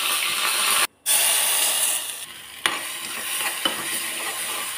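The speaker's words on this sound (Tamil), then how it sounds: "ஒரு கடாயில் எண்ணெயும் கடுகும் போட்டுக்கிட்டேன்." Mustard seeds and curry leaves fry in hot oil in a pan with a loud, steady sizzle, broken by a brief cut and a couple of sharp stirring knocks.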